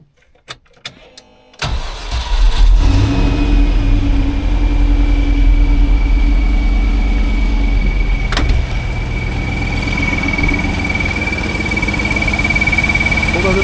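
A 1989 Range Rover Vogue SE, with a blowing exhaust, is started after a few clicks, then catches and runs at a loud, steady idle with a rumbling low drone and a faint high whine.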